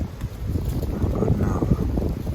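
Wind blowing outdoors on a hunting trip, a steady low rumbling gust buffeting close against the microphone with no clear talk over it.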